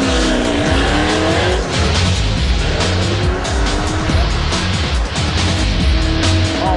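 The White Zombie, an electric Datsun 1200 drag car, makes a loud run with a rising electric whine and squealing tires over a continuous roar, close and intense for the whole stretch.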